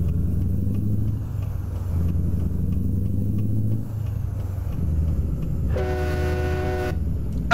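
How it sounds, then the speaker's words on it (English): A Mack Pinnacle truck's city horn, set with a train horn, blows once for about a second and a half in American Truck Simulator, a loud harmonic blast over a constant low engine drone. "the city horn, I guess, has the train horn in it"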